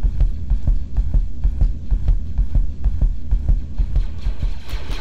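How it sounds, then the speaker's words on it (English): A low, thumping heartbeat pulses steadily in Star Wars Battlefront 2 as the player's health runs low, about two beats per second over a background hum, with no speech. "Is that a heartbeat I hear?"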